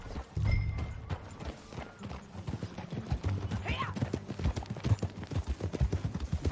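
Horse hooves clip-clop in a steady riding rhythm in the Red Dead Redemption II video game, getting busier toward the end, with a brief neigh and voices talking over the hoofbeats.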